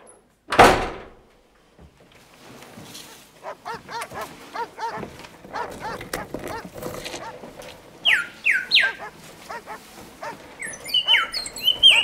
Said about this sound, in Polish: Rudzik! Delikatny i potulny, nóżki ma takie cienkie niczym zapałki. Ależ głośno krzyczy.